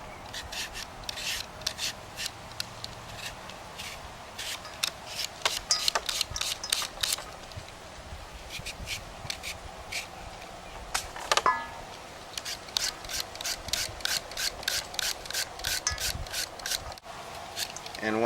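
Repeated rhythmic rasping strokes of a blade shredding green papaya into thin slices, close and steady, with brief pauses between runs.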